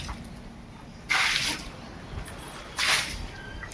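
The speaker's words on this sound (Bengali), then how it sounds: "এই যে মাসি এখন এখানে উঠোনটা ধুয়ে দিচ্ছে" Water is splashed across a courtyard floor during washing, with two distinct loud splashing bursts separated by quieter dripping and trickling in the background.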